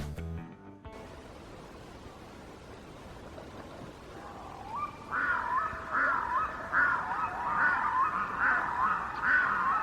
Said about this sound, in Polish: no, no nie ma ciszy, gdyż ptaki mm, prawdopodobnie urządzają sobie tańce godowe